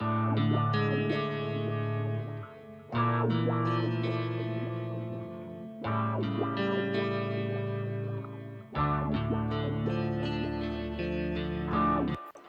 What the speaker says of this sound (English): And then we have the clean guitars,